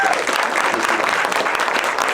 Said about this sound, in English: could you please give a really warm round of applause?